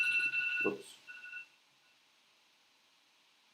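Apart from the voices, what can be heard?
smartphone alarm timer going off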